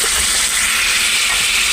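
Chopped snake gourd hits a hot frying pan, giving a steady, loud hiss of sizzling that fills the short moment without any talk.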